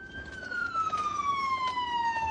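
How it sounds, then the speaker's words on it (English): A police or emergency siren wails steadily in a slow descending sweep, fairly loud and continuous with no talk over it, heard during a dramatic scene of an officer responding to a fire threatening a nearby restaurant. "Siren is playing in like my left ear only."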